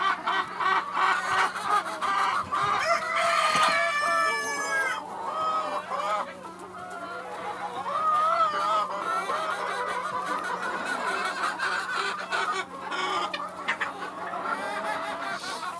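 Several chickens, a small flock of four or five hens, cluck and squawk close by in a busy, overlapping chorus, with occasional louder cackles over a faint steady hum, on a snowy day.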